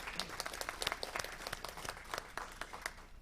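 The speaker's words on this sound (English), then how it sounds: "Okay, everyone, let's give them a round of applause." A city council meeting audience claps for a student, a short burst of distinct, separate hand claps with an uneven rhythm, moderately loud in a room with only a modest number of people.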